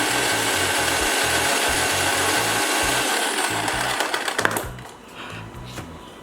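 A kitchen blender churns bananas, apple, milk and ice into a milkshake with a loud, dense motor roar and rattling chop for about four seconds, then winds down and stops.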